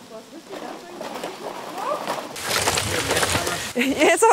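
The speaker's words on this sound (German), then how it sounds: "Und jetzt fängt es auch noch richtig an zu regnen." Heavy rain begins falling around a treehouse hotel built around a beech tree in a German forest, swelling from a light patter to a dense, loud downpour while people talk.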